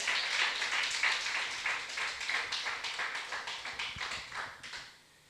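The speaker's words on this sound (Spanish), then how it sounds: "Dale un aplauso al Rey de la Gloria." Church congregation applauding during a Spanish-language sermon, a rapid patter of many hands that swells quickly, holds steady, then thins and fades out over about five seconds.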